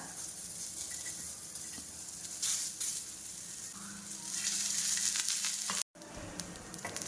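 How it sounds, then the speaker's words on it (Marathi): Onion roasting in a pan for dhaba-style shev bhaji, a dense, continuous close sizzle with brief swells as it is stirred, cut by a momentary gap near the end. "तर मी भाजणार आहे आपला कांदा."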